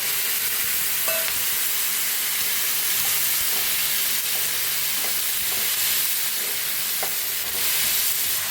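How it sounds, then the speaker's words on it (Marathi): Onion fries in hot mustard oil with a steady, loud, broadband sizzle that runs unbroken throughout. Faint occasional clicks of stirring sit underneath, and no one speaks. "आता कांदा छान भाजायला लागला बघा"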